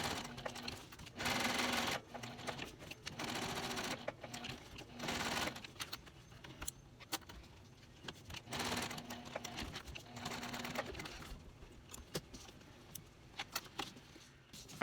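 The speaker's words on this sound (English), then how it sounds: "I'm going to stitch 1/8 of a seam allowance around the entire ID window opening." A sewing machine stitches around the ID window of a tall wallet in several stop-and-start runs, each a quiet rapid whirring patter, with small clicks and handling noises between them.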